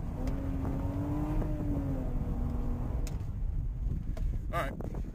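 Game car in Busy Beans driven around, with a steady engine drone and rising whine close up through most of the stretch, some busier clatter toward the end.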